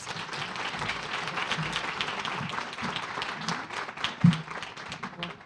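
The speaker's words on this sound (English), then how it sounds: "Let's give them a big round of applause" An audience at a women's commission event on equal pay claps together in sustained, dense applause of even loudness, with a brief thump near the end and no one speaking.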